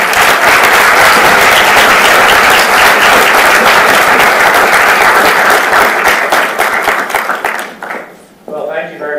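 Loud audience applause fills a hall as a crowd welcomes a renowned speaker at YSU. Steady dense clapping runs for about eight seconds, then thins out and fades as a single voice begins to speak.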